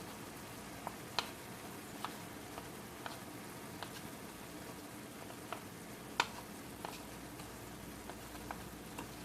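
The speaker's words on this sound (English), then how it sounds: "just turn it up just a little bit because you want to keep that sizzling so it'll cook that meat all the way through" Ground turkey sizzles quietly in a frying pan for dirty rice, a soft steady hiss broken by scattered small pops and ticks, with no talking.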